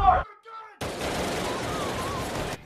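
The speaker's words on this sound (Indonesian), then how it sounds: "akhirnya IJ ditembak mati oleh polisi di rumahnya." Police gunshots from the film Unfriended: Dark Web: a brief quiet tonal moment, then a loud, sustained burst of rapid gunfire lasting nearly two seconds before cutting off.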